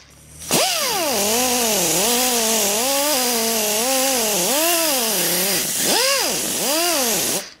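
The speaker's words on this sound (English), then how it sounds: "Got our air tool here with this buffing pad." Pneumatic air tool with a buffing pad, loud and close, spinning up with a sharp start, then a rising and falling whine as the speed varies in repeated swells before cutting off.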